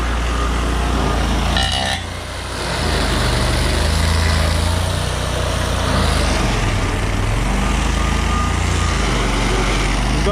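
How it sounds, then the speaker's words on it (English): A stump grinder chews steadily through a big tree stump outdoors, a loud, continuous engine roar with gritty grinding noise that dips briefly before resuming. "Dad's got about half this big stump grinded out."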